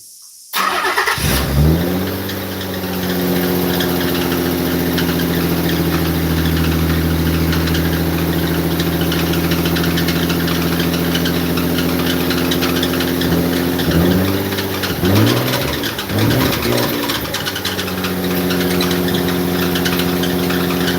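A car engine cranks and catches after a brief silence, then settles into a loud, steady idle with a couple of wavering throttle blips partway through, in a home mechanic's garage.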